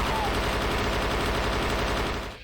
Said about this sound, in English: a loud gunfire happens every time